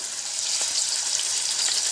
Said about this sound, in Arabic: حطيت صينية على النار وحطيت فيها معلقتين زبدة، وهنزل كده بصدور الفراخ